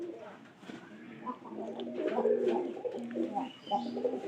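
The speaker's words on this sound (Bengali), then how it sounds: "7 জোড়া সর্বমোট আমাদের কবুতর মনে করেন যে খড়ি টানতেছে।" Pigeons in a loft collecting nesting straw coo softly and repeatedly, with several low throaty calls overlapping in a close, quiet rhythm and a faint chirp or two.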